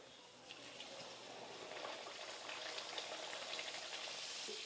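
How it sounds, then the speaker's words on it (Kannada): Masala poori made from gram flour frying in hot oil, a quiet continuous crackling sizzle that grows a little denser over a few seconds. "ಇದೇ ರೀತಿ ಮಿಕ್ಕಿದ್ದೆಲ್ಲ ಫ್ರೈ ಮಾಡ್ಕೋತೀನಿ ನೋಡ್ರಿ"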